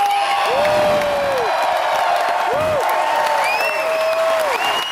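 A concert crowd at the Uptown Theater in Minneapolis applauds and cheers loudly for the band, a dense wall of clapping with scattered whoops and whistles that continues steadily for several seconds.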